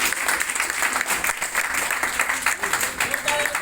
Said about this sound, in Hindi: एक बार थोड़ी ताली बजाओ।